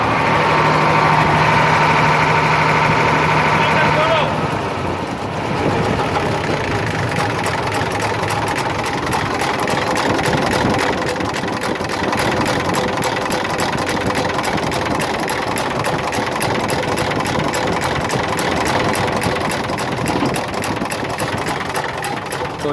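A Daewoo diesel engine with a broken pump plate runs steadily with an uneven, misfiring rhythm and steady mechanical clatter, close and loud. A higher whine in the first four seconds cuts out, and the engine noise carries on alone.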